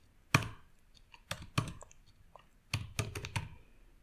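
Computer keyboard typing in the Godot 4.5 script editor: a few scattered, crisp keystrokes close by, with quick clusters of clicks between short pauses and no talking.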